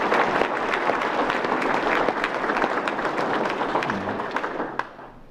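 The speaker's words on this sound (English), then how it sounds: "we can give him a round of applause nonetheless" Audience at an electric cooperative's annual meeting applauds steadily, a dense wash of many hands clapping that holds for about five seconds before tapering off near the end.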